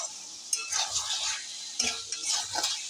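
Chicken being kosha-cooked in a pan gives a soft sizzle under intermittent scraping and clinks of a spatula against metal, the stirring coming in a few brief bursts, fairly quiet and close.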